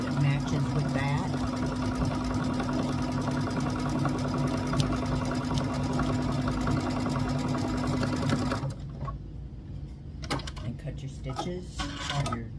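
A sewing machine runs steadily for about eight seconds, a close, continuous mechanical hum and rattle while it stitches a fabric hexagon quilt block, then stops, leaving faint handling clicks and noise.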